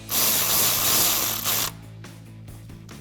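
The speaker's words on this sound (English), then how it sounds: "Tighten your 10mm bolts with your 10mm socket." Ratcheting clicks from a 10mm socket wrench tightening 10mm bolts while fitting ignition coils on a 2014-2018 Chevrolet Silverado or GMC Sierra 1500: a dense burst of close, loud clicking, then quieter sparse clicks.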